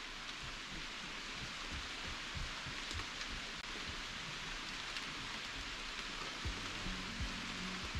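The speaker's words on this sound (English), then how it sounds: "Getting a little bit of rain this morning." Light morning rain falls steadily outdoors, a broad even hiss with scattered soft drop patters and low thumps, continuous and fairly quiet throughout.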